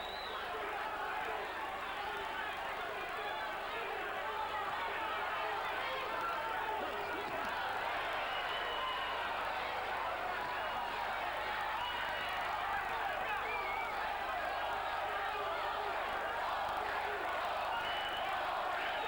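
A Miami boxing crowd roars steadily in support of Cuban heavyweight Jose Ribalta during his bout with Michael Dokes, the dense cheering and shouting held at a constant level throughout with no clear breaks.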